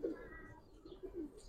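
A racing homer pigeon coos in soft, low bursts, a few throaty coos spaced across the moment, fairly close with faint background noise.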